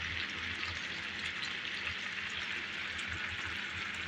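Chicken tocino frying in a pan, a steady close sizzle with dense crackling and popping that keeps an even level throughout, no voices over it.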